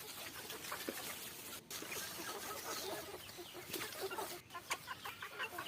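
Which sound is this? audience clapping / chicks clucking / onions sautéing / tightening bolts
chicks clucking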